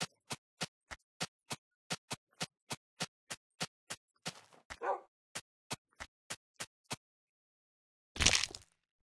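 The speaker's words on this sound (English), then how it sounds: "I found a dog." A dog in the Minecraft video game barks in a steady, evenly spaced series of short sharp yips. There is a brief whine partway through, then the barking resumes, and a burst of louder noise comes near the end.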